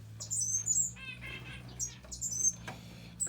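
Cuban grassquit nestlings about ten days old chirping in bursts, thin high peeps and short trills coming in clusters, close by, over a low steady hum, with soft rustles between calls.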